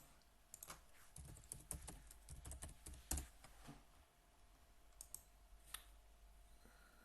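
Keys clatter on a computer keyboard as a search is typed, coming in quick irregular bursts of close, crisp clicks with short pauses between them.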